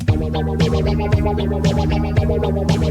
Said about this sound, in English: The psychedelicness comes from this like auto filter plugin thing.